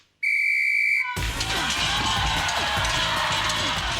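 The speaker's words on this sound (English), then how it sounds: "When the whistle blows, your time will start" A sharp referee-style whistle blasts loud and clear for about a second to start a timed 20-rep contest on a TV talk show, then a roaring studio crowd cheers continuously.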